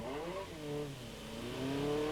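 A TVR Tuscan race car revs and slews sideways in oversteer at Knockhill, engine notes rising and falling in sweeping pitches, moderately distant and faint.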